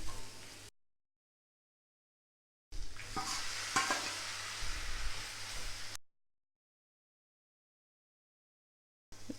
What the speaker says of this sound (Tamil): மிளகாய்த்தூளை லைட்டாக அந்த மாதிரி வதக்கி விட்டுட்டு அதுக்கப்புறமா நம்ம தக்காளி ஆட் பண்ணிடலாம்.